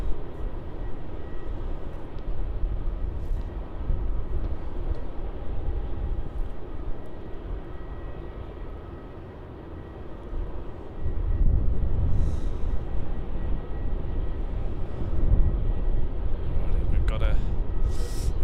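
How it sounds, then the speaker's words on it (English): A Qantas Boeing 737-800 taxis out to runway 34 at Melbourne Airport, its steady jet engine rumble and whine carrying on throughout and swelling louder partway through. "There's a Qantas 737-800 taxiing out to runway 34."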